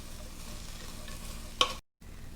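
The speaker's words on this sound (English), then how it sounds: "Continue to stir fry." Onions and mushrooms stir-fried in a pan for Japanese Napolitan spaghetti, a soft steady sizzle with one brief louder clatter of a utensil before a moment of dead silence, then the quiet frying resumes.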